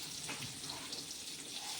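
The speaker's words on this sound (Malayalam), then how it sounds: "എണ്ണ തിളച്ചുകൊണ്ടിരിക്കുന്നു." Oil heating in a deep pan before mustard seeds go in, cooking for sambar and fried fish, gives a steady close hiss and sizzle with faint crackles throughout.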